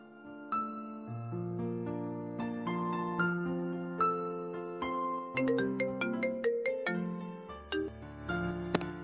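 A mobile phone ringtone plays a bright, melodic electronic tune of stepped tones, loud and continuous, with no voices over it.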